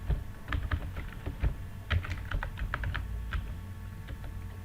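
Close, quiet typing on a computer keyboard while writing code for Spring MVC doGet and doPost methods, with irregular bursts of key clicks and no talking.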